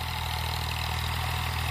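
An Eicher tractor runs with a Moscow rotavator attached, giving a steady, loud, low diesel drone with an even throb and no pauses or voices.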